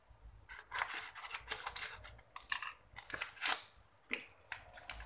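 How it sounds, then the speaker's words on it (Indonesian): Scissors snip open a packet of whipped cream powder in a kitchen, giving a series of close, crisp cuts and rustles with short pauses between them. "whipped cream bubuk, mau saya gunting dulu."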